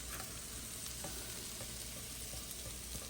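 Ginger, garlic and green chilies fry in a pan with a steady, dense, close sizzle that holds evenly throughout, with faint scattered pops and no talking.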